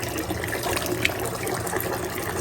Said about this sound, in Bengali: আর এখানে ডাল ধোয়া হচ্ছে